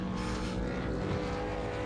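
V8 Supercar race car engines at the start of a Road Atlanta endurance race, a loud steady multi-engine drone held at high revs throughout.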